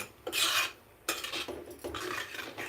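A spoon scrapes and clanks inside a pot while stirring kitchari of toor dal lentils with carrot, potato and peas, in three separate rough metallic strokes with short pauses between them.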